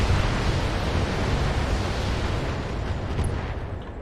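Heavy LRM turrets in the BattleTech video game unleash a missile barrage, a dense, loud, continuous rumbling roar of launches and blasts that holds steady for several seconds with no pauses.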